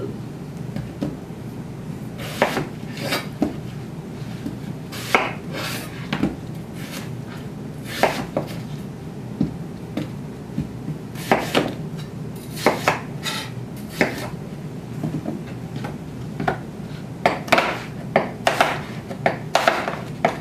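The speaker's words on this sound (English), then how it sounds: "I'm just going to take these chopped apples and layer them on the bottom of my slow cooker" Chopped apples are dropped and layered into a slow cooker, giving a run of irregular clattering knocks and thuds against the pot, close and fairly loud, with no talk.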